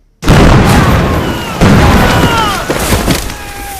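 A bomb detonates in an action film, a sudden loud blast followed by a second heavy boom and rumbling debris, with whistling tones and scattered crackles trailing off over several seconds.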